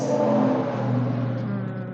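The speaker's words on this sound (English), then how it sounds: "If the loud trucks would stop going by," Heavy trucks rumble past outside, a loud, steady low engine drone that slowly fades over a couple of seconds, with no talking.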